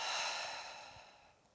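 Long, soft exhalation during a yoga flow, a breathy airy rush that is strongest at the start and slowly fades over about a second and a half, close and quiet with no talking.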